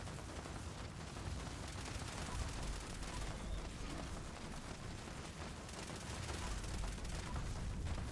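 Continuous rapid gunfire from a player's weapon in Fallout 76, a dense, unbroken rattle of shots at moderate loudness throughout.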